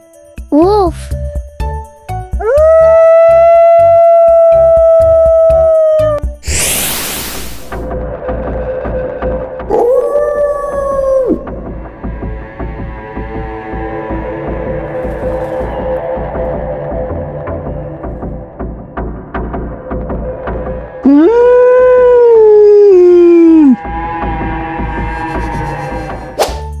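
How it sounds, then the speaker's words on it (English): A wolf howls in several long, rising and falling drawn-out tones, loud and close, separated by pauses, with a voice speaking in between and light chiming music underneath. "Wolf."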